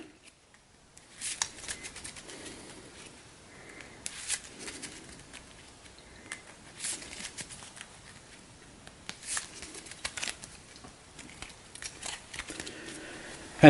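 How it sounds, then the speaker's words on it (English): A deck of game cards being shuffled at a tabletop campaign session, with soft riffling and crackling bursts recurring over about twelve seconds, close and moderately quiet, with no talk. "So we'll shuffle all of this up."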